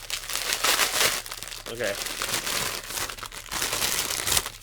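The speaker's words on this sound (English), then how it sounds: "Destroy this packaging now" Plastic packaging around bootleg mini figures being torn and crinkled, loud and close, with someone speaking briefly over the rustling.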